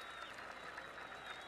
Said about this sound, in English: let's give a round of applause to our judges